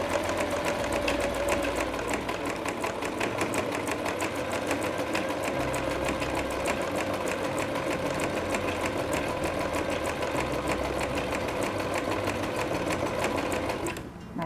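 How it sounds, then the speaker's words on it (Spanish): A sewing machine, driven by its pedal, stitches a round fabric makeup remover pad in one continuous, even run of rapid stitching that stops abruptly at the end. "le damos al pedal y vamos cosiendo"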